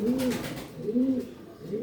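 A gökmenekli takkalı kızıl pigeon coos close by, three rounded repeated coos in a steady rhythm with a little faint background noise.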